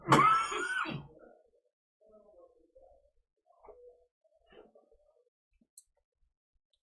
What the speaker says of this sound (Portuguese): a tosse me atingiu aqui de novo